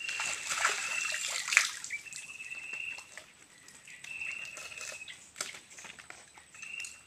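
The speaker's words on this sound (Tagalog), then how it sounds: "Naliligo kami ngayon ng aking kumpare." Two men bathe in a stream after returning from the sea, with intermittent nearby splashes, sloshes and trickling water at moderate volume, with no clear talk.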